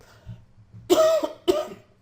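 Two harsh coughs close by, the first longer and rougher, the second short, with faint low rumbling before them.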